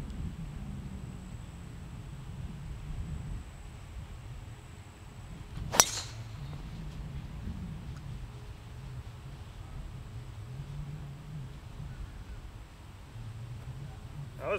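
A single sharp golf tee shot on a par five of an old island course, one clean crack of club on ball standing out against steady outdoor background noise, then quiet.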